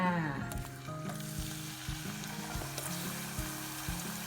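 Banana slices fry in hot oil for banana chips, giving a steady, soft sizzling hiss under continuous background music.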